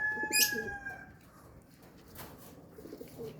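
A ringed pigeon is released outdoors. It gives a short, close coo with a brief chirp at the start, then the sound goes quiet apart from faint background noise and a soft flutter near the end.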